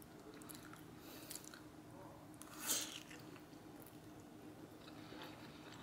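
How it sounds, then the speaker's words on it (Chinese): A single close bite into a wonton gives a brief soft crunch and squish, then quiet chewing follows under faint room noise. "来吃一颗云吞。"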